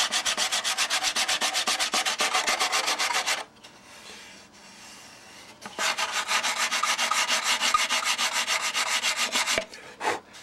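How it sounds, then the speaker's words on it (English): Sandpaper wrapped around a glass jar rubs back and forth against a model aircraft wing, a steady rapid scratching rhythm close up, pausing for about two seconds before resuming and then stopping. "Wrap some of that Bernie Trent sandpaper around it."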